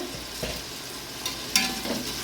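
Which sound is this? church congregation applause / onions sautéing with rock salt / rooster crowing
onions sautéing with rock salt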